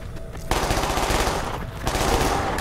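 Sustained automatic gunfire in Escape from Tarkov on the Factory map empties a full magazine, a dense, loud burst running without pause after a quieter start.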